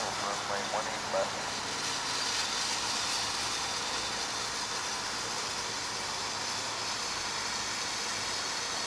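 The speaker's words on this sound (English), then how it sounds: "So there you have your Pepsi plane." A Pepsi-liveried airliner landing on runway 18 Right at DFW International Airport gives a steady, broad jet roar that holds evenly at moderate loudness through the whole stretch, with no voices over it.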